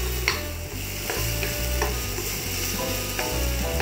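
Ingredients sautéing lightly in oil in a pan before spinach goes in: a constant loud sizzle with rhythmic scraping strokes and a ratchet-like clatter of the utensil, with no voices.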